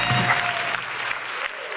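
Applause from a few people at a live stand-up comedy fundraiser, a steady dense patter of hand clapping lasting about two seconds with no talk over it.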